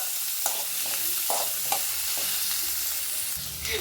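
Onion fries in a pan for egg curry masala, with a steady crackling sizzle and a few soft scraping stirs, close up and with no voices.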